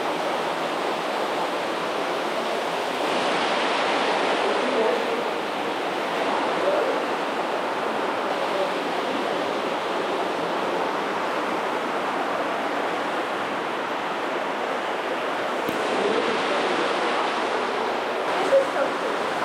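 A waterfall inside a cave roars as a steady, dense wash of rushing water, loud and continuous with little variation and a faint echoing closeness.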